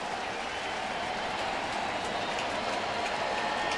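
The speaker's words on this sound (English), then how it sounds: "And here comes the crowd." A baseball stadium crowd at a Pittsburgh at St. Louis game roars in a dense, steady wash of cheering and noise that holds at an even level throughout.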